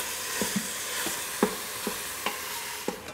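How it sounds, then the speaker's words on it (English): Lamb sautéing in an Instant Pot, a steady close sizzle with scattered soft scrapes and stirring taps of a utensil against the pot, no voices. "Now we're going to add the lamb. Now we're going to saute that for 5 minutes."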